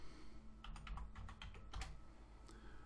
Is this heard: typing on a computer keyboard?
yes